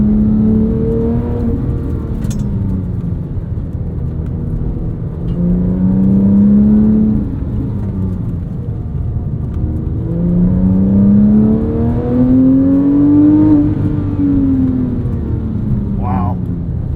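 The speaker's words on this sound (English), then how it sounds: "It's hard to rival the sound that this Metzger engine makes." A 997.1 Porsche 911 GT3 with its Mezger engine revs while being driven on canyon roads, rising and falling through two long climbing pulls with a steady engine drone and some talk inside the car.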